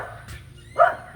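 A dog barks outside in a front yard, a short burst of one or two sharp barks near the end over a low background hum.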